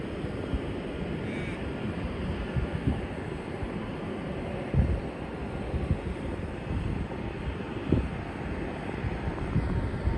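An airplane taking off at Melbourne Airport gives a steady, broad rumbling roar that holds for the whole stretch, mixed with gusty wind buffeting on the microphone and no talking.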